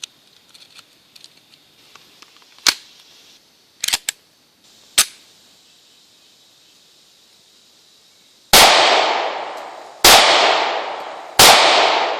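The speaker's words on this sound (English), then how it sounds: "We're going to do a little bit of shooting with it." Sharp gunshots from a Kahr CW9 pistol ring out, a few lighter distant pops first, then three loud, close reports spaced about a second and a half apart, each with a decaying echo.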